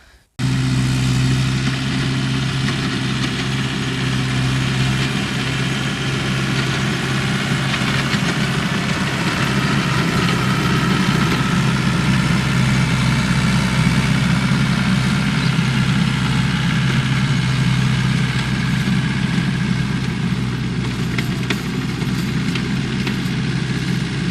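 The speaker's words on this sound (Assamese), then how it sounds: "ট্ৰেক্টৰেৰে কেনেকৈ মাটি চহোৱা হৈছে, মানে মই মাটি চহাই আছোঁ সেইখিনি দেখুৱাওঁ।" A loud, steady tractor engine rumble runs without pause while ploughing a field, close by, holding an even throaty drone with no talking.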